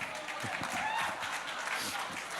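Applause from the audience at the IIFA 2024 awards event, a dense steady patter of many hands clapping with crowd noise, fairly loud and continuous throughout.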